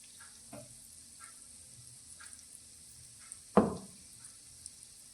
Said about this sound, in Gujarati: તેની જાતે જ તળાઈ અને અવળા સવળા થાય ત્યાં સુધી તેને આપણે તળાવવા દેવાના છે